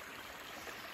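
Water rushes along a woodland stream near Norris Lake after heavy overnight rain, a steady broadband wash of flowing water with no breaks, no voices over it.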